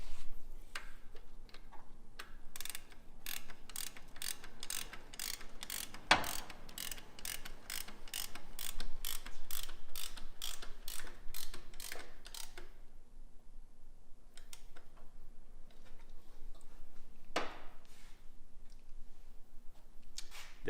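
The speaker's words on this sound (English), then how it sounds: "Let's tighten up the bolt and see if it stays that way." Ratchet tightening the alternator bolt on a car engine during a Honda K-series swap into a CRX drag car: a rapid run of evenly spaced clicks at close range, then a pause and a few scattered clicks, with no talk.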